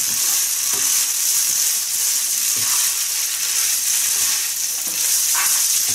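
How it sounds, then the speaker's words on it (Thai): Vermicelli pad thai with fresh shrimp and egg stir-fried in a pan over lowered heat: a steady close sizzle with scraping spatula strokes running throughout, no talking. "เดี๋ยวเราผัดให้เข้ากันนะคะ"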